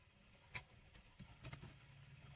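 Typing on a computer keyboard at a command prompt: a handful of separate light key clicks, slightly irregular in rhythm, close and fairly quiet with no talking.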